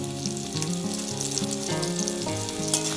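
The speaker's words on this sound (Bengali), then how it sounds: "এবার আমি মশলাগুলো ভালো করে কষিয়ে নেব।" Salt and turmeric sizzle with chopped green chilli and tomato in hot oil for a dhaba-style tadka, a steady frying hiss beneath background music, with no one speaking.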